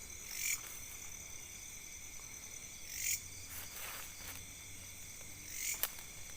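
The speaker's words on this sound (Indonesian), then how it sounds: "Hanya terdengar suara jangkrik dan macamnya itu teman." Crickets chirp steadily at night in a quiet garden, a dense, continuous high trill with a few louder bursts of insect calls rising above the background.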